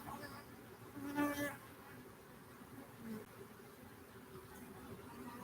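Honey bees buzz around an open, queenless beehive, a faint steady drone with a slightly louder bee passing close for a moment.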